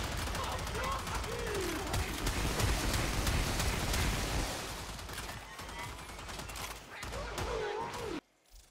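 The Sporelacer kitgun in the Warframe video game fires in dense, continuous bursts of gunfire with game effects and chatter layered over one another, loud and unbroken until an abrupt cut near the end, with a voice talking over it.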